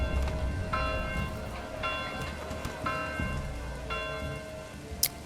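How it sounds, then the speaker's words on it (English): Steady rain patter in the medieval city-building game Manor Lords, a continuous hiss over low ambient rumble, with repeated soft tonal chimes and a brief bright ping near the end. "Getting some nice rain"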